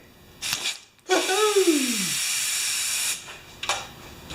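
A sharp, forceful blast of compressed air from a Honda compressor hisses through a clogged pipe for about two seconds, sputtering and gurgling as it starts, bracketed by short bursts of hiss.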